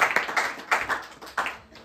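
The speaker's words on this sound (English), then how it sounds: "Clap your hands." An audience claps hands briefly, a short cluster of uneven, fairly close claps that fades out after about a second and a half.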